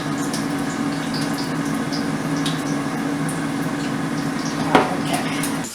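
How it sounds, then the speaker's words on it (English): Water drains off cooked rice in a home kitchen as a steady, close rushing trickle, with one brief clink of a pot near the end. "Try to drag off all the water."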